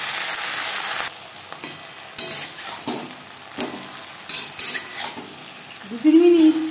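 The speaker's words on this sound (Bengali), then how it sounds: "ফোড়নের সাথে ভেন্ডি বেশ ভালো করে মিক্স করে দেবো।" Okra stirred and fried with tempering spices in a pan, with intermittent scraping strokes, light sizzling and clinks of a utensil against the pan, fairly close and moderately quiet, no voices.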